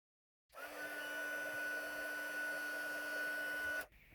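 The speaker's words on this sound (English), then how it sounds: "So I'm going to heat emboss that with the white embossing powder." A heat gun blows steadily for about three seconds while melting white embossing powder on card, a close, even whirring hiss with a fixed tone that starts and stops abruptly.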